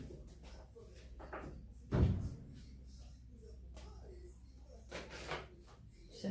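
Neighbours' doors slam shut with a heavy thud, then a couple of softer bangs a few seconds later, under quiet indoor background noise and a voice talking.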